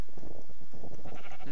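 A Minecraft sheep lets out a short, close bleat in a video game, repeating in a few quick wavering pulses with no talking over it.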